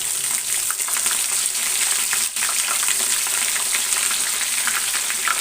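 Ginger paste fries in hot oil for a chicken pickle, giving a steady, dense crackling sizzle that holds evenly throughout with small pops and occasional stirring.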